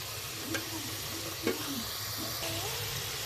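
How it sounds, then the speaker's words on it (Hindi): Eggplant pieces frying lightly in a pan for aloo baingan, a soft steady sizzle with a few faint scrapes and knocks of stirring, close by and without talk. "ये बैंगन हमारे फ्राई हो रहे हैं।"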